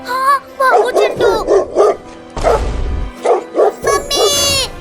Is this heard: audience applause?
no